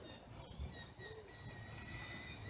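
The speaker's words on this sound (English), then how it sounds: "Hear the birds singing?" Faint bird chirps and high thin calls drift over a steady outdoor background in Georgia, with a soft low rumble underneath.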